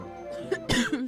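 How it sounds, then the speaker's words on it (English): Two people coughing close by in a small room, a couple of sharp bursts followed by a rougher, throaty cough near the end. "we're both coughing in here"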